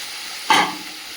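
Papaya and potato pieces in a hot pan give one short burst of sizzling as they are stirred, then settle back to a faint frying hiss.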